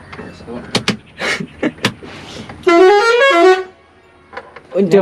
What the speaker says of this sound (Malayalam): അടുത്തതായിട്ട് നമ്മളെ ഹോൺ അടിച്ചടങ്ങും വണ്ടി സ്റ്റാർട്ട് ചെയ്യുന്ന ചടങ്ങുമാണ്